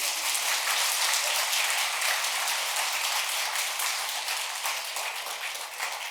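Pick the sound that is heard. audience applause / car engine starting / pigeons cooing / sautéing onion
audience applause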